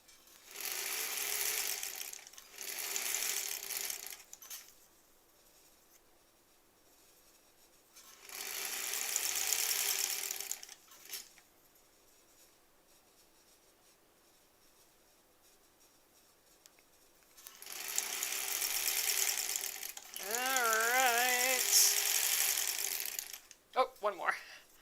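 A sewing machine stitching quilt strips together for a granny squares quilt, a steady whirring motor buzz in several bursts of a few seconds each with quiet gaps in between, close by, with a voice near the end.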